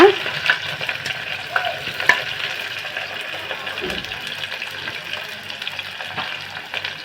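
Long-cut sliced onions and dried red chillies fry in oil in a pan for a gongura tomato curry, giving a continuous close sizzle with a few spoon scrapes and no one talking.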